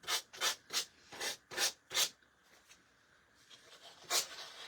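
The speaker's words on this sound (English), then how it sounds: "we're just going to sand off all of this excess" A sanding block rubs back and forth across paper on a rustic wooden cross, six soft, evenly spaced strokes, a pause with faint rustling, then one more stroke, quiet and close.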